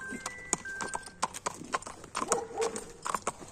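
A well-built horse walks with crisp, close hoof clip-clops in an uneven rhythm, a faint whinny mixed in, and some voices talking lightly in the background.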